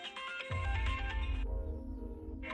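A mobile phone ringtone plays a bright, melodic tune loudly for about a second and a half, then gives way to softer, lower background tones.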